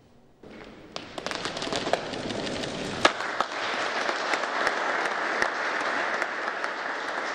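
Applause breaks out at the naming of a new congress centre foyer, starting abruptly and building into a steady, dense clapping from a sizeable crowd, with a few sharper individual claps standing out.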